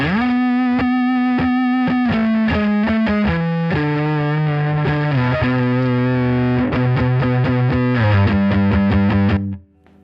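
Electric guitar through a fuzz-like distortion effect plays a thick, saturated melodic line with sustained notes that slide down in pitch, loud and continuous before cutting off abruptly near the end.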